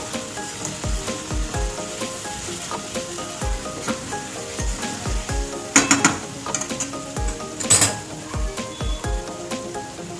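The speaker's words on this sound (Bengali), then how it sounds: "ঝোলটা ভালো করে ফুটুক" A pan of shol fish curry gravy bubbling and sizzling on the stove, with a steady hiss and frequent soft pops and clinks of a utensil against the pan. No one speaks.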